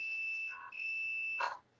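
A fire or smoke alarm sounds from played-back paranormal investigation footage, a steady high electronic tone that breaks briefly and resumes before cutting off, fairly loud and alone.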